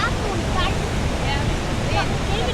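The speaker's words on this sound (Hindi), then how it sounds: "वो सारा नायग्रा फॉल्स है देखो।" Niagara Falls roars as a dense, steady wash of falling water, loud and continuous, with voices talking over it.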